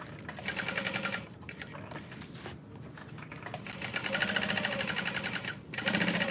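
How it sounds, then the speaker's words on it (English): A sewing machine basting overlays onto a tote bag runs in close, rapid bursts of stitching, stopping briefly a few times between runs, with no talk over it. "I'm going to baste on these overlays"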